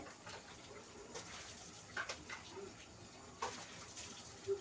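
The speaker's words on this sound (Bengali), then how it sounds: "তো আমি দিয়ে দিচ্ছি গরম জল" Hot water pours into a pan of lightly spiced fish curry base cooked with little oil, with potato and green banana in the dish; a soft, quiet gush with faint splashes and bubbling, no talk.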